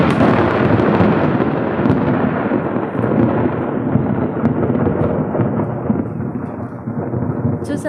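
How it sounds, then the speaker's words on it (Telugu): Heavy thunder from a village storm rolls in a loud, continuous rumble that fills the whole stretch, with rain in the background. "చూసారా ఫ్రెండ్స్ ఎట్లా ఉరుముతున్నాయో"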